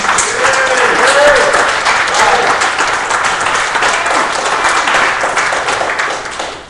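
Audience applause for John Dilks at a radio club meeting after he wins the Hawk Award, a loud, dense spread of clapping that holds steady and tapers slightly near the end, with a voice briefly calling out early on.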